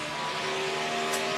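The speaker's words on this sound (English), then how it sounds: "You just hear those cars go off in the corner" NASCAR Sprint Cup cars at Dover International Speedway in 2014, a steady loud engine roar as the pack heads into the corner, sustained drone with no talk.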